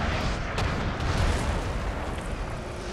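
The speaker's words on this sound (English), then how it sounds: "Let's actually have both of these cannons fire on their horse back here." Cannon artillery fire in Napoleon: Total War, a dense continuous rumble of distant booms and battle noise with low thuds rolling throughout, no distinct single shots standing out.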